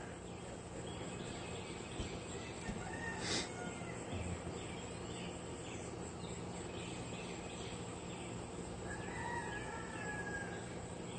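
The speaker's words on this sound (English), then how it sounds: "that rooster's sneaking up. I can hear him coming." A rooster crows faintly at a distance around sunrise, one short call over a constant bed of chirping crickets and insects.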